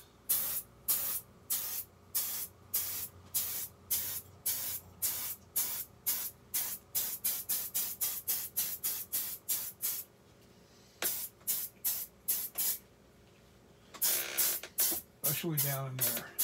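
Release agent hisses from a spray can in dozens of short bursts at close range, quickening into rapid sprays, then a pause and a few longer blasts, for a latex mask mold.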